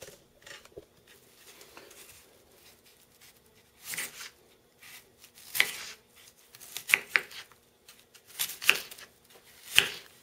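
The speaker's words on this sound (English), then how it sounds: "Let's go ahead and cut this guy in half." A Spyderco Delica 4 folding knife cuts an onion in half, giving scattered crisp slicing and crunching strokes that grow denser toward the end, close by and moderately loud with no talking.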